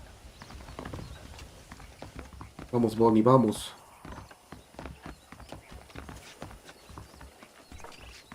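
Saddled horses in Red Dead Redemption, a short, loud cluster of hoofbeats and horse sounds near the middle, set against a steady low background with someone speaking briefly.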